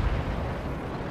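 Tank cannons fire in World of Tanks, a dense, heavy boom with a rumbling low-end blast filling a brief moment, loud and close, with no talking.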